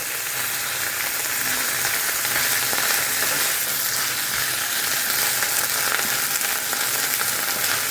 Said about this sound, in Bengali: একটুখানি আমি ভেজে নিচ্ছি।